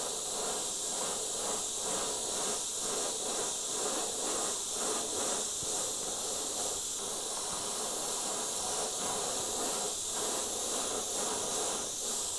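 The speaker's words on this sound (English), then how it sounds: "I'm going to spray this one violet" A steady, unbroken hiss of an airbrush spraying violet paint runs for the whole stretch, fairly loud and close, with no talking.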